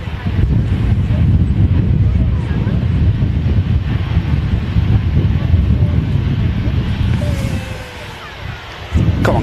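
A TUI airliner in from Mahon rolls off the runway onto a rapid exit taxiway, its engines a loud, steady low roar mixed with wind buffeting that eases near the end.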